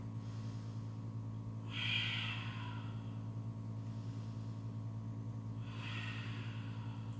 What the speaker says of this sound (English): And pause here, a couple breaths.